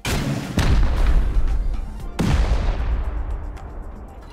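A rocket is fired at a base in a survival video game: two heavy booming blasts about a second and a half apart, each trailing a long rumbling decay, with no speech.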